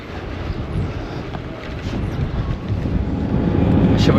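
Strong wind buffets the microphone while someone cycles near Neuf-Brisach, France. A loud, low, steady roar builds toward the end with no talking.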